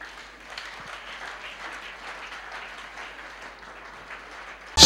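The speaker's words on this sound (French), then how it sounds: "On acclame le Seigneur." A church congregation standing and applauding during a sermon, a steady wash of many hands clapping together, moderately distant and even throughout, with a few faint voices mixed in.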